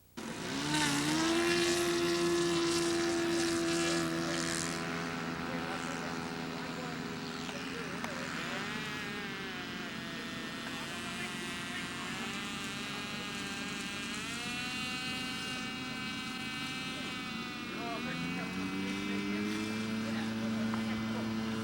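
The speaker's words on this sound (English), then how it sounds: "Oh, there goes Gene Bilodeau down there again with another plane" A floatplane powers up for takeoff from water at a float fly-in, its propeller engine droning steadily and loudly at rising and shifting pitch for about twenty seconds, with a brief tone change near the end.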